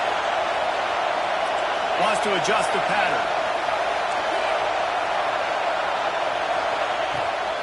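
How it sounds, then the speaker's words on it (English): A home stadium crowd roars in College Football 26, a loud, continuous wash of cheering that fills the whole stretch, with a commentator talking over it. "how nice is it to have the home crowd going absolutely bananas?"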